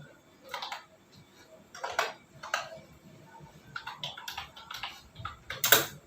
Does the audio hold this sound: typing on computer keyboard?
yes